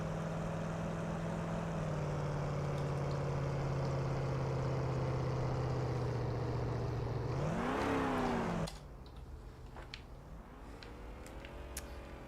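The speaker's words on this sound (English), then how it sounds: "So now the engine sound is actually really," A car engine in the video game Traction Point drones at a steady, very loud pitch, then surges upward in a brief rev before dropping to a quieter idling hum.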